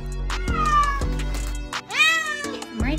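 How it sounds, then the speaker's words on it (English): A very theatrical cat meows loudly several times in close succession, the calls rising and wavering in long drawn-out wails, with a low steady hum running underneath. "This has to be the most dramatic cat I have ever seen."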